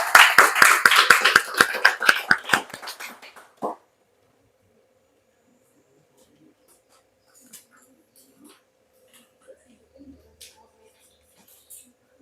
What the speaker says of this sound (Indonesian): Tepuk tangan dulu lah untuk kalian semuanya ya.